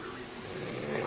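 A woman snores in her sleep, pushing out a heavy, rasping exhale that builds gently over about a second, close and fairly quiet.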